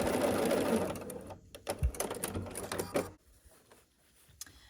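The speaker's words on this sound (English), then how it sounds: "I'm laying it on here, matching those two creases up, and we're just sewing across" Sewing machine stitching across matched creases of a scrappy sampler quilt block, a steady whirring run that stops partway, followed by quieter handling noises.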